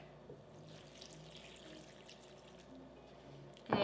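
Stock poured over bread cubes for Thanksgiving stuffing, a faint steady trickling pour close by, ending with a brief louder clatter.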